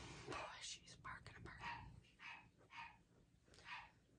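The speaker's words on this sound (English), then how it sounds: "Boy, she's barking" A dog barks repeatedly in the background, several short bursts spaced apart, somewhat distant beneath a woman's soft, whispery talk.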